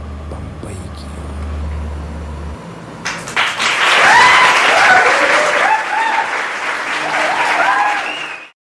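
Loud, sustained applause from an audience, starting abruptly after a low hum and a few seconds of near quiet and then holding as a dense clapping wash with voices and whistles mixed in, before cutting off.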